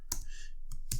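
A few keys pressed on a computer keyboard, three distinct clicks about a second apart over a faint steady background, close, with no voice.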